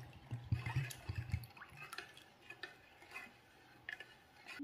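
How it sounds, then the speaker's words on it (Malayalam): A spoon stirs a buttermilk and gooseberry drink mixed with salt and water, giving faint, irregular clinks against the vessel and soft swirling liquid, close by in a quiet kitchen. "ഉപ്പ് ചേർത്ത് നന്നായിട്ടൊന്ന് മിക്സ് ചെയ്യണം"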